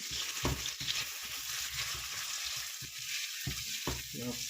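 Fish masala for grilled fish sizzles steadily in a pan while a spoon stirs and scrapes through it, giving a continuous bright frying hiss broken by irregular soft clinks and scrapes close by.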